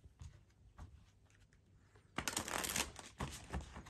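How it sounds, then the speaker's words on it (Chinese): Playing cards being shuffled by hand, first quiet scattered riffles and taps, then a loud sustained riffle shuffle with cascading flutter, close and alone. "我们现在洗牌"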